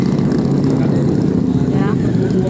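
Engine developed by Porsche running at a bike and music weekend event, a steady loud drone with a rough, propeller-like hum throughout, with people talking nearby.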